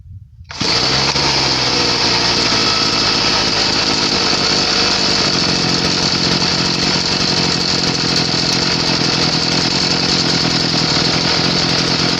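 A two-stroke brush cutter fitted with a new carburetor starts almost at once, then runs at a steady, loud, high-pitched buzzing whine, close up and unbroken for the rest of the stretch.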